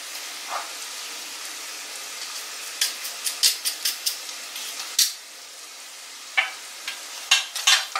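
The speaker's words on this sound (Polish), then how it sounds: "I dalej smażę do momentu, aż cebulka nam się zeszkli." Onion, sausage, bacon and mushrooms fry in a pan, giving a soft steady sizzle broken by sharp clinks and scrapes of stirring, close up with no talking.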